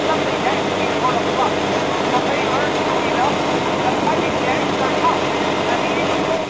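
World War One triplane fighters dive on a lone British Bristol two-seater in a dogfight. Their piston engines make a loud, steady, continuous drone with no breaks.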